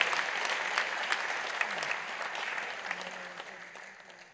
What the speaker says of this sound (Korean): 크게 박수로 환영하시지요.